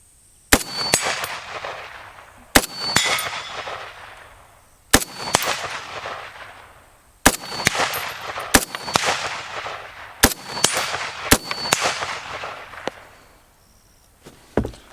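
Sharp metallic clacks and racking slides of a Ruger Mini-14 rifle action cycling repeatedly, in bursts separated by brief pauses, close and loud with ringing tails.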